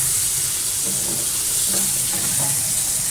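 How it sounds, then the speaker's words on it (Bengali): Pointed gourd (potol) fries in an open pan, a steady close hiss of hot oil with faint scraping bursts running through it and no talking. "একটু পটলগুলো ভাজা ভাজা হোক"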